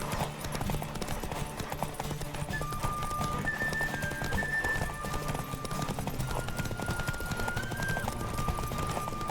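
A horse gallops at speed in The Witcher 3: Wild Hunt, hooves pounding in a rapid steady rhythm under game music and ambient effects, continuous throughout.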